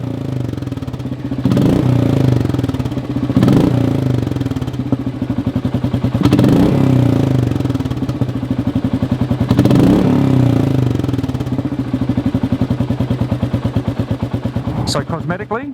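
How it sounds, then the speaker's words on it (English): A Royal Enfield 350 motorcycle with an aftermarket exhaust idles and is revved in repeated bursts, a loud, close, thumping single-cylinder beat rising and falling over the whole stretch. "I've also put an aftermarket exhaust that reduced a bit of weight and does sound better than the stock exhaust."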